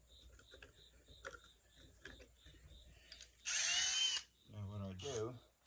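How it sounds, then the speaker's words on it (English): A power drill whirs in one short, loud burst while bottle lights are fitted into a bottle log wall, after faint ticking and handling noises, followed by someone talking. "then I'll change out my drill bit"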